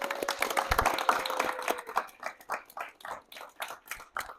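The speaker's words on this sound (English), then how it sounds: "Let's give him a round of applause." A small audience claps for Christian McDonald, guest of the Jacket Talks show in Kansas City; the clapping is dense at first and thins into a few scattered, separate claps toward the end.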